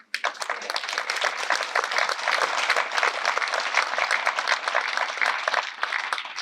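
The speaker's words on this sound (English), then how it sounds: "Thank you for that applause" An audience at a National Buffalo Soldier Day celebration ceremony at Camp Naco applauds. The clapping is dense and steady, fairly loud and sustained for several seconds, and no voices are heard over it.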